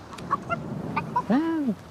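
A chicken gives a quick run of short, close clucks, ending in one longer honking squawk, all within two seconds.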